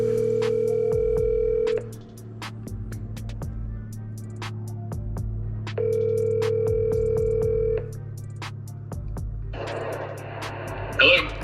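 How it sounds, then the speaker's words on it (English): A phone call to a seller rings out over a steady cabin hum, two long electronic ring tones separated by a pause, clear and close, followed by a brief burst of noise as the line connects. "let's go ahead and get the seller on the phone."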